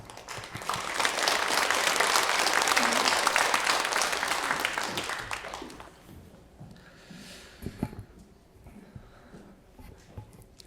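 A church congregation claps to welcome a newly arrived pastor at Hanul Church, a loud sustained wave of applause that swells, holds for several seconds, then fades into scattered claps and quiet room noise.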